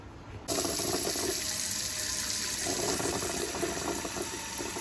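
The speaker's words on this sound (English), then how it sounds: "So the first thing you're gonna do is wash off all your tomatoes." Tap water gushes steadily into a sink while tomatoes are rinsed, starting abruptly after a short quiet moment and running continuously with faint splashing as the produce is handled.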